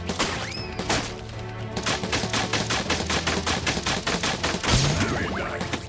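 Rapid gunfire from the shooting minigame in Final Fantasy 7 Rebirth, a dense, continuous stream of loud shots with game effects layered over a steady backing score.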